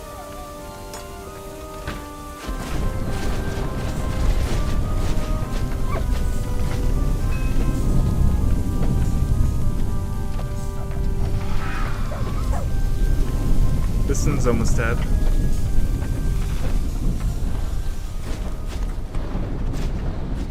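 Hail falls in the Rise to Ruins colony game as a dense, steady patter with low rolling thunder beneath, continuing throughout while a person talks over it.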